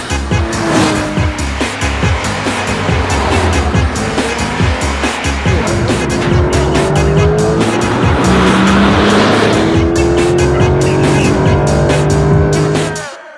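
A Porsche race car driven hard on a track at the GP Explorer event, with a loud roaring engine rising and falling through gear changes, repeated tire squeals and skids, sustained close up throughout.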